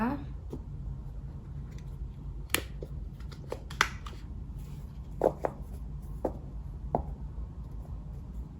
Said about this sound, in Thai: สับไพ่กันค่ะ ตัดไพ่นะคะ